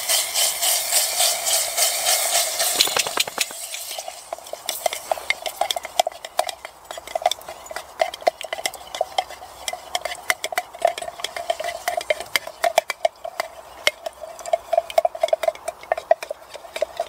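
Butter melting and being stirred in a pan for a nettle soup roux, with a steady soft sizzle and repeated scraping, tapping utensil strokes against the pan throughout, close and fairly loud.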